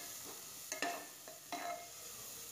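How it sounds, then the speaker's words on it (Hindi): Spices such as turmeric powder fry with onions in oil for a vegetable tahari, a quiet steady sizzle punctuated by several scraping stirs of a spoon against the pan, heard up close. "इन मसालों को आप अच्छी तरह चलाइए और प्याज के साथ भूनिए।"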